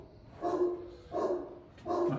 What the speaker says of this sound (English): He must have come back and come in with his dog.